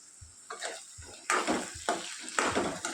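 Pieces of ivy gourd fry in a pan, a steady sizzle broken by bursts of a spoon stirring and scraping through them, with a few low knocks against the pan, close up.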